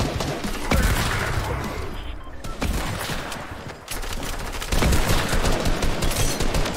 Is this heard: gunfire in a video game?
yes